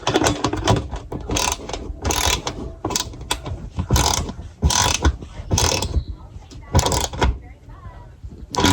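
A fastener on a BMW E30 euro bumper being pushed in and tightened, giving repeated ratcheting, clicking bursts up close, with someone talking between them.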